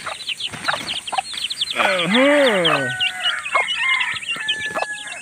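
Chicks and hens crowd in at feeding time, with a dense chorus of high peeping, clucking and one clear drawn-out call close by, while a voice talks underneath.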